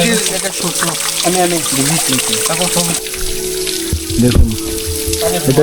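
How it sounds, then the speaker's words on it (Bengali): The Chhagolkanda waterfall on the Komoldoho trail makes a steady rushing roar that runs under a person talking close by. "এই হচ্ছে ঝর্ণা পানির অবস্থা"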